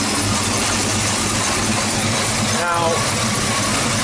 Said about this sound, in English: This thing is running like it's got an E-cam in it.